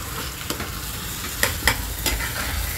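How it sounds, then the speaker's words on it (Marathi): Eggplant bharta with garlic and tomato sizzles steadily as it sautés in a pan, with a few sharp clicks of a spoon stirring against the pan. "चांगलं परतून घ्यायचं आहे, जरा शिजू देते ते."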